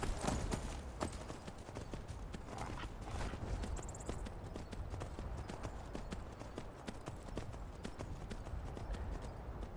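Horse hooves clip-clop steadily at a walking pace in Skyrim: Anniversary Edition, a close, even rhythm of hoof falls that runs throughout with no talking over it.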